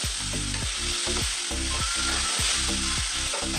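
Tomato puree sizzles loudly in hot oil in a pan for an egg and salted fish curry, with a ladle stirring through it in regular scraping strokes, close and steady.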